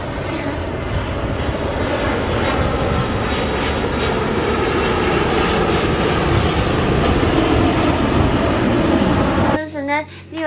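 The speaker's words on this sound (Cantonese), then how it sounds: "呢個聲音咧，各位小朋友都十分之熟悉，冇錯啦，佢就係飛機" An airplane flies with a loud, steady engine roar and broad rumbling whoosh that holds for about nine seconds before cutting off abruptly.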